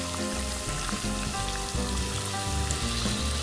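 Pączki, Polish donuts, frying in hot oil: a steady close crackling sizzle with fine popping bubbles, continuous and alone, no voices.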